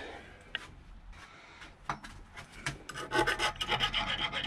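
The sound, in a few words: deburring metal of custom motorcycle handlebar switchgear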